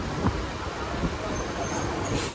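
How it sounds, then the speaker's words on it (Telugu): MEMU train running just after departing Donakonda on the Markapuram to Tenali line, a steady rumbling rush of the moving carriage with faint rail knocks and a brief high squeal near the end. "మన ట్రైన్ అయితే ఇప్పుడే స్టార్ట్ అయింది దొనకొండ నుంచి"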